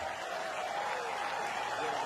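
Cricket crowd applauding Brendon McCullum's record century in a 2016 New Zealand–Australia Test in Christchurch: a steady, dense wash of clapping and cheering from the stands, held at an even level from start to finish.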